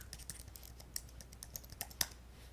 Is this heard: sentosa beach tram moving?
no